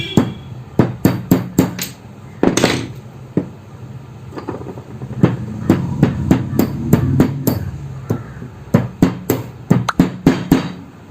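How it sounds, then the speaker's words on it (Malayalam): A hammer taps the bent bush clamp of a mixer grinder motor back into shape with sharp metallic blows close by, coming singly and in quick bursts, steady through the whole stretch. "ഇതിനൊന്ന് ബുഷ് ടൈറ്റ് ആവുന്ന വിധത്തിൽ പുറത്തേക്ക് വളഞ്ഞിരിക്കുന്ന പോർഷനെ ഒന്ന് ഉള്ളിലേക്ക് തട്ടി ഒതുക്കി"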